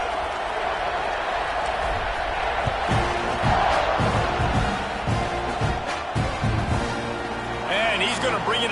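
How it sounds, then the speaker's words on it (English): A college football video game stadium crowd buzzes steadily after a score, a dense continuous roar under a play-by-play commentator's voice, with a brief rise of cheering near the end. "this crowd is buzzing after that last score"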